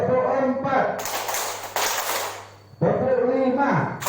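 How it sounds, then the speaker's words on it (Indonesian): A group in a teachers' workshop in Lubuklinggau bursts into a dense round of rhythmic hand clapping lasting under two seconds, framed by a voice speaking before and after. "Tepuk 4."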